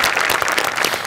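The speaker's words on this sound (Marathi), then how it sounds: "त्यांच्यासाठी सुद्धा जोरदार टाळ्या" A studio audience claps loudly and steadily for Goswami sir at a live Marathi comedy show, dense applause filling the whole moment without talk.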